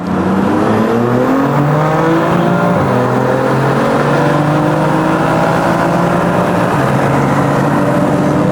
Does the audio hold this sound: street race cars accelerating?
yes